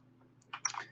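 A computer keyboard's arrow keys pressed while paging through stock charts, a few quick soft clicks in a short burst close by, with no voices.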